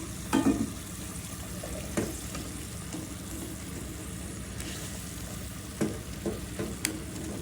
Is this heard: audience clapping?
no